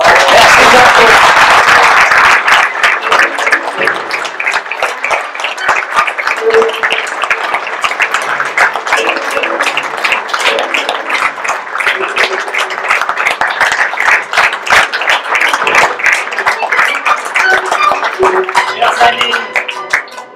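Loud, sustained applause from a live audience at a Guignol puppet show, dense steady clapping filling the whole stretch without a break, with a brief burst of cheering near the start.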